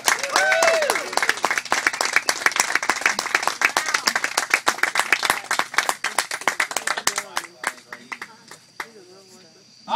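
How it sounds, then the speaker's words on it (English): Festival crowd at Cottonfest clapping, a dense burst of applause that thins into scattered claps toward the end, with a voice speaking over the start. "Y'all just finished clapping."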